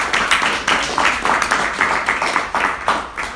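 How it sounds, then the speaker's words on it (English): Audience at a Money Talk Monday event clapping in an irregular rhythm, individual claps close and distinct, fairly loud, with no talk over it. "Let's give her another round of applause."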